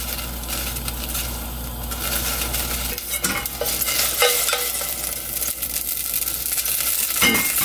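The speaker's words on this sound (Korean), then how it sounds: "참기름을 한 스푼 넣을게요." A spoonful of sesame oil sizzles in a heating pot on the stove while a utensil stirs and scrapes against the metal, a soft close crackle with occasional clinks and no talking.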